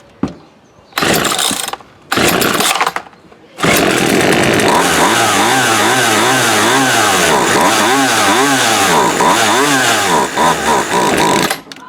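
A Poulan Wood Shark chainsaw sputters in a few short bursts, then catches and runs loud and steady up close, its engine note rising and falling in pulsing revs.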